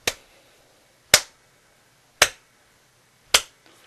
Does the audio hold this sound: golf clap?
yes